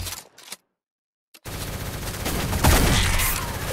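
Sustained loud bursts of gunfire in a shooter video game, a shotgun-versus-sniper fight, erupting after a brief silence and continuing as a dense, close barrage.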